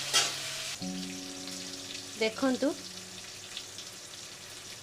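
Cabbage fries in a pan for a vegetable tarkari, giving a faint, steady sizzle with a few louder stirring scrapes. A voice speaks briefly over it.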